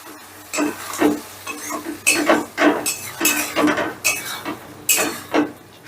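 A spoon repeatedly scrapes and clinks against a pan while chilli sauce and soy sauce are mixed for egg chilli, with a light sizzle under the rhythmic stirring strokes.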